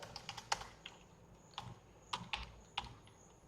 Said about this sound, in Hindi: इसके लिए आप अपने नेट ब्राउज़र में यहाँ पर भाषा इंडिया टाइप करिए।